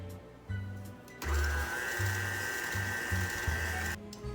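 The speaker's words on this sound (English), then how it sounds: "We're going to blend this for a couple minutes while it gets nice and creamy and light in color." A blender whips coconut bundt cake batter in a long, steady motor whine with a low rumbling hum. Shorter bursts come before it and a brief pause follows.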